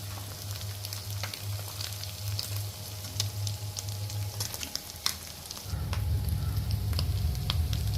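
Pallathi fish fry in hot oil, a close, continuous sizzle with crackling pops and a low hum underneath that grows louder near the end.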